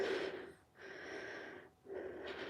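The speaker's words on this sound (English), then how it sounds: "Sorry about the heavy breathing." Heavy breathing through a face mask comes close to the mic as three long, hissy breaths, each cycle rising and falling with short gaps between them.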